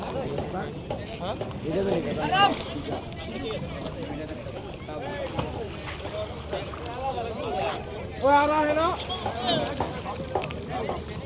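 Fishing boats and motor trawlers pull in at a river ghat carrying fish, with engine rumble, water and wind noise and crowd chatter running steadily throughout, and people talking nearby over the busy scene.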